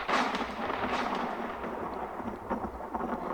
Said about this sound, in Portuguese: o trovão tá muito forte aqui